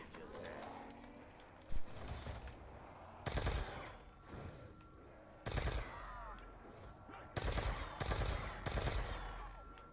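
Automatic gunfire from Black Ops 2 Zombies on the Buried map crackles in several sharp, loud bursts, each spaced a second or two apart, over a steady low game background.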